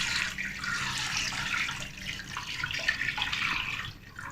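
Water poured into a cooking pot holding 300 grams of cold red beans, a continuous splashing, rushing stream close by, steady and fairly loud throughout.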